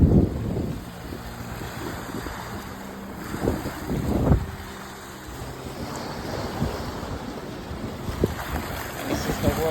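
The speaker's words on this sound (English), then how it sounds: "this is the water." Sea water and wind at a beach on a morning walk, with low tide: a continuous broad wash of surf and gusty wind buffeting the microphone, waves swelling and receding at a steady level with no talk.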